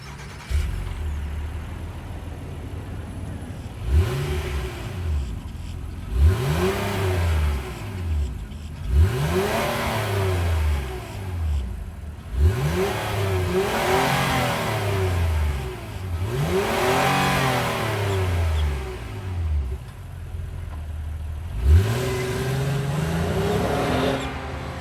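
A 3.5 liter VTEC V6 in a 2023 Honda Ridgeline RTL-E revs repeatedly, each blip rising and falling in pitch in a run of roughly eight throttle bursts over a steady idle, recorded near the truck with no talking.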